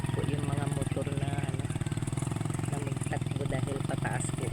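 Motorcycle engines labour uphill on a road damaged by a landslide, with a steady mid-pitched drone running throughout while voices talk over it.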